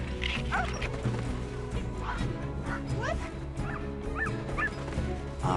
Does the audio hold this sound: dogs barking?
yes